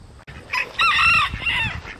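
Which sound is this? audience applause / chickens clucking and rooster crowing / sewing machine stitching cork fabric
chickens clucking and rooster crowing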